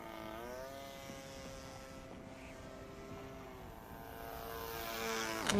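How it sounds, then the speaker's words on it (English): An RC plane's propeller in a video game, a faint steady buzzing whine with layered harmonic tones that hold level and then bend sharply near the end, heard alone. "Why the RC plane?"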